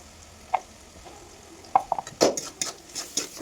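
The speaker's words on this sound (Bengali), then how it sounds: "পেঁয়াজের লঙ্কাটা লাল লাল করে ভেজে নিলাম" Onion and chili frying in a pan for a Bengali egg dish, with a soft background sizzle broken by a few sharp, close clinks and scrapes of a spatula against the pan.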